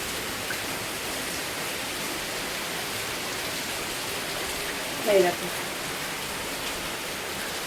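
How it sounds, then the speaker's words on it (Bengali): Rain falling outside a balcony on a darkening day, heard as a steady even hiss, with a voice speaking briefly partway through. "বৃষ্টি শুরু হয়ে গেছে, আওয়াজ পাচ্ছ বৃষ্টির?"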